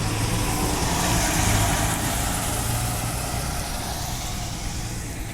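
A Transperth 252 service bus pulls away, its heavy engine rumbling loudly nearby before slowly easing off as it moves on, with a broad hiss of traffic and wind throughout.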